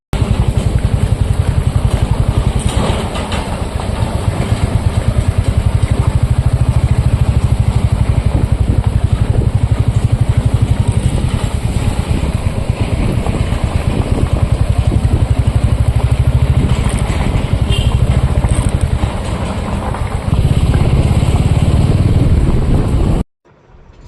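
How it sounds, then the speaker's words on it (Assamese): A motorcycle rides along a winding mountain road, its engine droning loud and steady close by for over twenty seconds before cutting off abruptly. "এইটো বাইক আমাৰ আগে আহি আছে"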